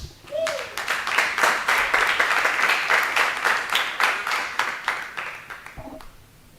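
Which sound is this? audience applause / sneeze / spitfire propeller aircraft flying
audience applause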